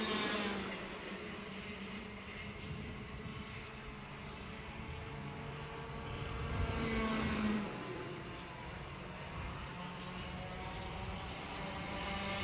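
Racing karts at a Tillotson karting championship finale at Kiltorcan, a steady mid-distance engine drone with harmonic whine and a louder swell near seven seconds as a kart passes close, no talk.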